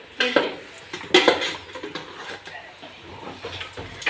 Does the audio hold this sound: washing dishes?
yes